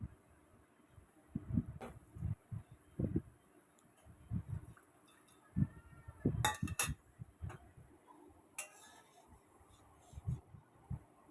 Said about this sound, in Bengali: চিনিটা আমের সাথে ভালোভাবে মিশিয়ে নিয়ে ভেজে রাখা মাছগুলো এর মধ্যে তুলে দেব।